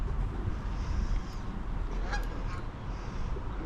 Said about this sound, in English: A lot of geese and a lot of seagulls.